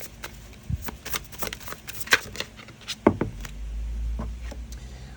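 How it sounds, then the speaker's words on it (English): Tarot cards are shuffled by hand in a quick run of crisp riffles and soft slaps, close to the microphone, with a low rumble near the end and no talking. "I love a good shuffle."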